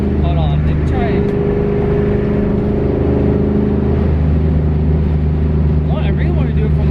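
A car, recently fitted with new fuel injectors and a fuel pressure regulator, drives along with a steady, loud engine drone that rises slightly in pitch at times. A voice may be faintly present.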